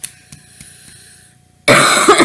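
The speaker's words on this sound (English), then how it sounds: "I have a cough, so I apologize for that." A single loud, harsh human cough erupts close to the microphone after a quiet stretch and carries on to the end, with no talking.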